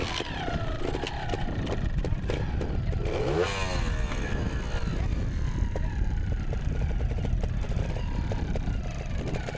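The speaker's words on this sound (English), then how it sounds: "Start your bike." A trials motorcycle starts and rides over rocks at a competition, its engine revving continuously and fairly close throughout, with a brief rising rev early on.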